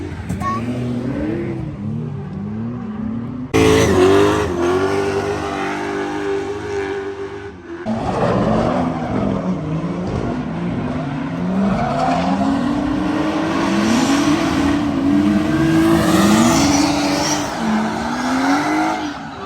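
Drift cars at the Feofaniya drift event in 2024 rev hard and wail in rising and falling engine tones, tires squealing beneath, loud and close, with a few abrupt shifts in the din.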